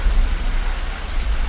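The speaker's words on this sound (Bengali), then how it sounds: "এখন বৃষ্টি পড়ছে মুষলধারে" Heavy, steady downpour of rain at night over a forest after a storm, a dense continuous wash with low rumbling undertones, loud and unbroken for a brief moment with no voices.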